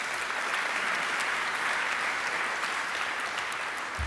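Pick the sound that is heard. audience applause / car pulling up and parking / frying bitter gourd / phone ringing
audience applause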